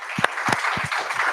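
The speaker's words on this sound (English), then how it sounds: "let's give them a round of applause" Audience applause at an SF community talk, a short burst of clapping filling the room with a few louder individual claps near the front.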